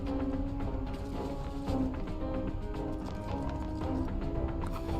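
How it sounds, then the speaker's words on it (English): Rapid footsteps from characters running around in the stealth strategy game Phantom Doctrine, a dense continuous clatter of quick steps throughout with a steady hum underneath and no talking. "I hear lots of footsteps running around."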